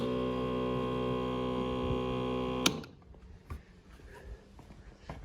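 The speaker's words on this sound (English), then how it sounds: "I've just wired the pump in on this switch here, so I'll flick it on, you'll hear it run" A small electric water pump for a 60-litre water bladder in a 4x4 touring setup runs with a steady tonal hum for several seconds, then switches off abruptly, leaving faint clicks and handling noise.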